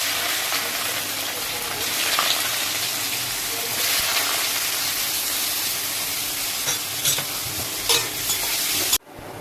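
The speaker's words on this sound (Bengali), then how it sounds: "তেলটা গরম হয়ে গিয়েছে এবার আগে আমি এতে গাজরটা দিয়ে দেব" Carrots sizzle loudly and continuously in hot oil for homemade fried rice, a dense steady frying hiss with occasional stirring scrapes, ending abruptly.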